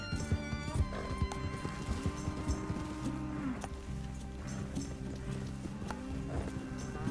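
Horse hooves clip-clop steadily as the animal runs through a Red Dead Redemption 2 game world, with a brief whinny and game music and ambience layered underneath.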